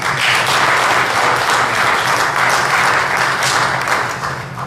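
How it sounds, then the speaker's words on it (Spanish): A church congregation breaks into loud, sustained applause, dense clapping filling the room for several seconds before easing slightly at the end, with no speech over it. "Denle ese aplauso fuerte a Dios."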